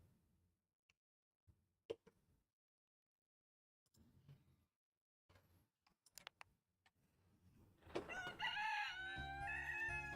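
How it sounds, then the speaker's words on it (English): A rooster crows in a garden as a visual novel sound effect, a loud drawn-out call arriving near the end after scattered faint ticks and soft clucks. "to the happy sound of a rooster crowing in the garden."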